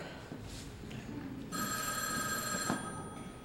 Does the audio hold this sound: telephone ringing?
yes